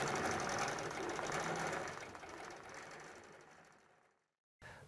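A Grace QCT6 quilting machine stitching an edge-to-edge pattern, a dense rapid mechanical whirring hum that fades gradually, cuts to a brief silence and then resumes, with no talk.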